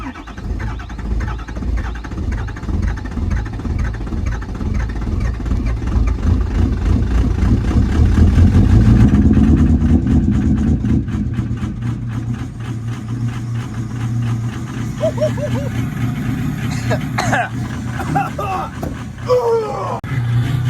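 A Ford 6.0 Powerstroke diesel idling on a very cold winter morning just after a cold start, a loud, low, rough rumble holding steady throughout while people talk nearby.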